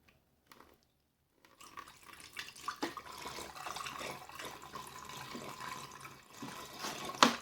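Distilled water pours steadily into the cooling system of an old, rusty generator, a continuous trickling and splashing fill that runs close and moderately loud, with a few clinks near the end.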